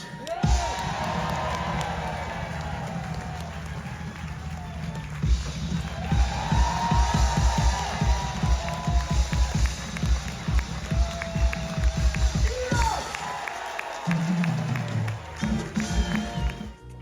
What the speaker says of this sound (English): you better clap and scream like you properly mean it